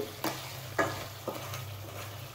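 Crab stirred with chili powder in a pan, making four distinct scraping knocks over a soft, steady sizzle and a low hum, fairly quiet and close.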